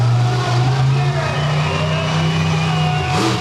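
Monster truck engine roaring at the start of a freestyle run at an arena event in Augusta, Georgia, a loud sustained throaty drone with pitch shifts, under an announcer's voice.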